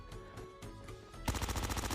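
Gunfire from an MX9 in the Call of Duty Mobile video game: a few spaced shots, then a loud, continuous rapid-fire automatic burst.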